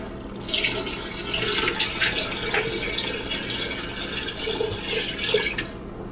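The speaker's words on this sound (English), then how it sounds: "So we're just going to cover that all with water." Water pours into a cooking pot over ingredients for a Jiggs dinner, a hissing, splashing rush that runs steadily for several seconds before tapering off, fairly close and moderately loud.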